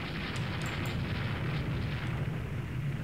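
Torpedo hit explosion in the naval game Rule the Waves 2, a steady, deep rumbling roar that holds at an even loudness, with a few faint high ticks near the start.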